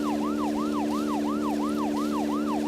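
Continuous wailing siren from the video game Deadly Premonition, a steady two-tone rising and falling sweep repeating about every third of a second over a constant engine-like hum, loud and close with no voices.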